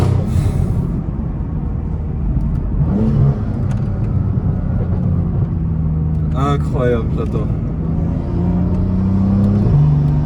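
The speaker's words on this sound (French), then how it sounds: "Je sais pas si vous entendez les pétarades" A BMW M2 CS drives along a mountain road, its exhaust giving off sharp pops and crackles over a loud, steady engine drone while someone talks over it.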